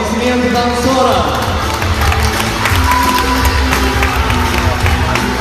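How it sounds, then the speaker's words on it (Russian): Audience at the Nemo dolphinarium show in Dzhubga applauding dancers after a rock-and-roll number: dense, steady clapping and crowd noise filling the whole stretch, loud and continuous with music playing under it. "аплодисменты танцорам"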